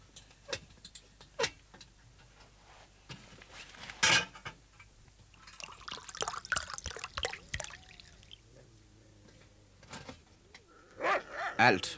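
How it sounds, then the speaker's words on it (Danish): Sled dogs of a Sirius patrol team on the Greenland coast bark in scattered, sharp bursts, some loud and close, others fainter, with gaps of quiet and background noise between them. "Alt afhænger af hundene, disse 10 kraftige, uregerlige og selvstændige bæster"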